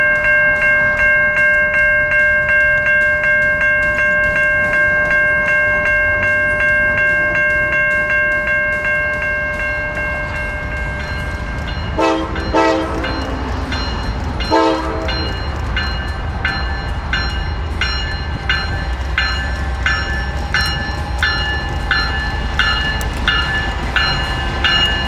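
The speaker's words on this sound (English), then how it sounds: "The train is no more than a half an hour away from Asheville as they approach milepost 128." A Norfolk Southern freight train on the Old Fort Loops near milepost 128 sounds a loud, sustained multi-tone horn, then rumbles past up close with rolling wheel and railcar noise.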